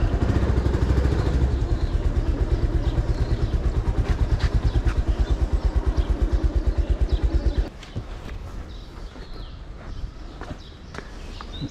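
A motorcycle engine chugs loudly close by with a rapid, even thumping pulse for several seconds, then drops to a quieter idle with scattered clicks and outdoor noise.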